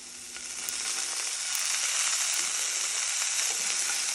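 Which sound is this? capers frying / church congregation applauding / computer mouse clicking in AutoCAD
capers frying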